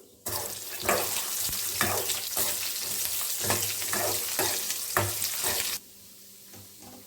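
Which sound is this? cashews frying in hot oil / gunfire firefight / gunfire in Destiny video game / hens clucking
cashews frying in hot oil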